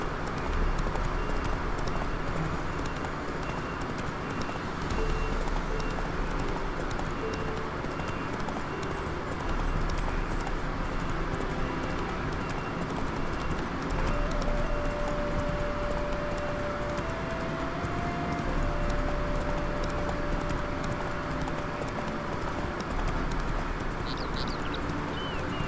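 In The Witcher 3, the horse Roach gallops with steady hoofbeats over a continuous game soundscape, with faint bird calls in the background.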